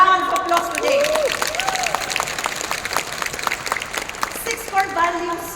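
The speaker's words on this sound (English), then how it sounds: "Can we give each other a round of applause today?" Audience applause at a Bangkok course session breaks out, a spread of scattered claps carrying on through the clip, fairly loud and near, with voices and tonal sounds mixed in over it.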